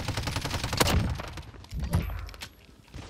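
Rapid MP5 submachine gun bursts in Call of Duty: Modern Warfare, close and sharp, fired in a couple of quick strings with short gaps between them.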